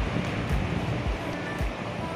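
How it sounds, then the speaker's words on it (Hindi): Heavy rainwater pours down from mountains in Saudi Arabia, a loud, continuous rushing roar of flowing water that fills the scene without a break. "ये काफ़ी ज़्यादा पानी यहाँ चल रहा है, ये पहाड़ों से भी पानी गिर रहा है"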